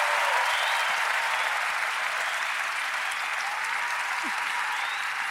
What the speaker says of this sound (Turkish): Tarık Sezer ve orkestrasına kocaman bir alkış lütfen